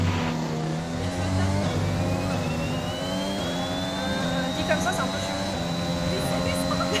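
A Formula 1 car engine in the F1 2021 racing game at Imola drones steadily and climbs in pitch as it accelerates, with a faint rising whine, continuous and loud from start to finish.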